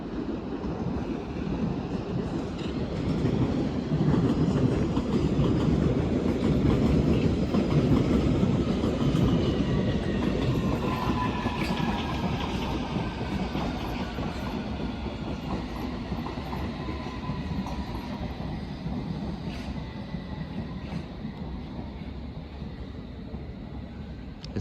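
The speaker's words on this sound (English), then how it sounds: "As a district line service to Hammersmith comes in." A London Underground District line train bound for Hammersmith pulls into Barking station with a steady rumble and rail clatter, a loud sustained roar that slowly eases with faint wheel squeal near the platform.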